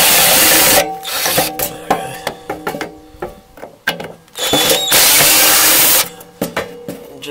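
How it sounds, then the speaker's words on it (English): A power drill whirs in loud bursts at the start and end, unscrewing plate screws on a caravan water pump, with clicks and clatter of screws and handling in between. "I'll have to turn my torque setting up a bit on the drill."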